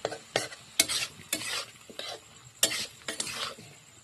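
Potato and tomato curry being stirred in a frying pan, with bursts of scraping spatula strokes in an irregular rhythm over a low sizzle, close and fairly loud.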